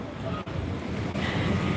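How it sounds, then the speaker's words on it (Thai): Sea waves wash steadily onto the beach at Gwangalli in Busan, a continuous broadband surf roar mixed with wind buffeting the microphone, with no talking. "นี่อันนี้คือทะเลนะคะ"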